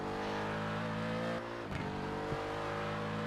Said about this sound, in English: listen to this car when it changes gear, so it backfires and flows flames out that little exhaust